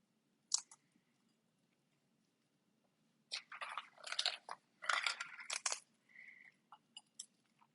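Candied walnuts are broken up by hand over a carrot cake, giving a brief crisp snap followed by a dense burst of crunchy cracking and crumbling, close and fairly loud, with no talking.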